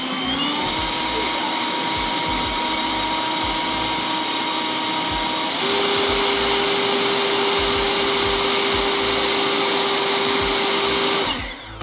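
Ego non-commercial handheld leaf blower running steadily with a loud, continuous whine and airflow roar, stepping up noticeably in pitch and volume about halfway through as it switches to turbo mode, then cutting off at the end.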